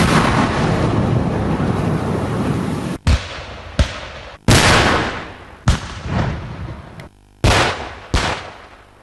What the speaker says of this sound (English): we lost count of the number of controlled explosions they had to initiate